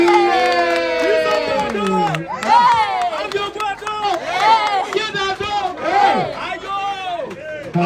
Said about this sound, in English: everybody started clapping and shouting